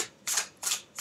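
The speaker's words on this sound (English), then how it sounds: "I know you can't really see me shuffle when I do them on the desk here" A deck of cards is shuffled on a desk, giving three quick crisp riffling bursts close up with short pauses between them.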